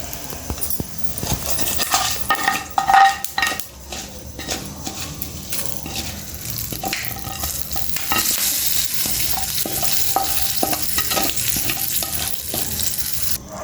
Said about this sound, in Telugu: చూడండి తాలింపు ఎంత బాగా వేసుకున్నాం మనం